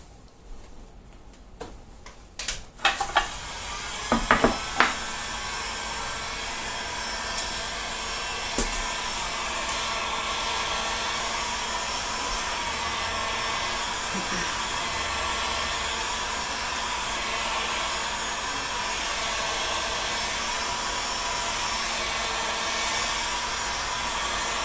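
A heat gun set about halfway down warms SDR21 plastic pipe, giving a steady airy blowing hiss that runs throughout after a few brief clicks and handling knocks near the start.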